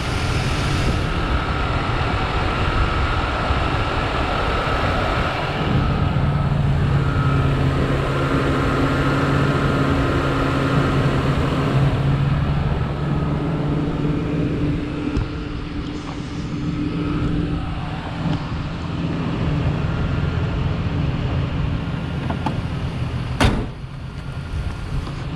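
The 4.2-liter six-cylinder engine of a 2002 Ford E150 cargo van with a contractor cab runs steadily outdoors, close by. A dense low rumble holds for about twenty-five seconds with faint humming tones and one sharp knock near the end. No speech.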